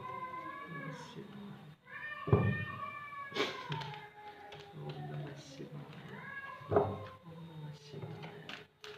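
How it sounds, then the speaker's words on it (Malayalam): Cats meow and yowl in drawn-out, rising and falling cries that overlap like squabbling, several loud calls standing out close by with softer mewing between them. "ചില സമയത്ത് പൂച്ചകളുടെ ഒച്ച കേട്ടുകഴിഞ്ഞാൽ ആളുകൾ തമ്മിൽ ബഹളം ഉണ്ടാക്കണ പോലത്തെ സൗണ്ടാണ്"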